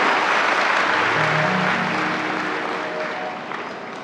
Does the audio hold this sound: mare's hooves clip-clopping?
no